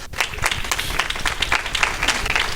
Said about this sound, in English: you deserve the greatest round of applause